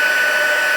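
An embossing heat tool blows hot air in a steady, loud, constant whine with an even rush of airflow, alone and unbroken for under a second.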